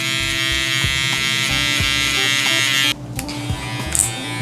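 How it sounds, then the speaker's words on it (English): An electric hair trimmer clearing bulk during a low taper haircut gives a steady, close buzz that drops away sharply about two-thirds through, then returns briefly with fainter, uneven contact. "we're gonna grab a trimmer"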